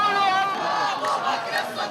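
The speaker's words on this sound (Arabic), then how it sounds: "الشعارات حملت دعما للمحتجين السوريين وتنديدا بقمع أجهزة النظام، بالإضافة إلى هتافات داعمة للسلفيين" A street protest crowd chants slogans in solidarity with Syrians, the many voices rising and falling in a steady, loud chorus.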